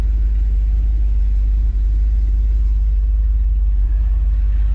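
A truck idling at a gas station, a deep steady engine rumble heard close and loud throughout, unbroken and without talk.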